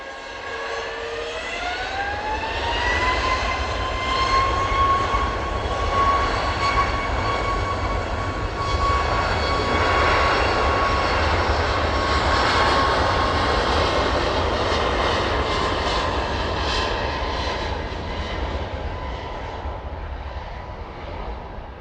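Jet airliner taking off at East Midlands Airport, a loud sustained engine roar with a rising whine that levels off, building in intensity and then slowly fading as it departs.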